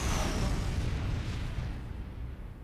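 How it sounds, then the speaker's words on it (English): A rocket blast at the player's feet during a Team Fortress 2 sentry jump, a loud booming explosion that rumbles and slowly fades, with no voices. "you need to jump and crouch right as the rocket hits your feet underneath you"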